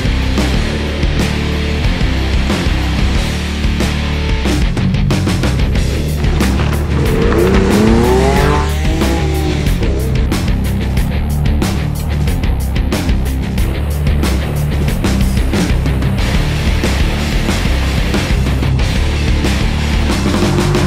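Powerful engines roar continuously as cars race, with tires squealing sharply in a brief burst midway through.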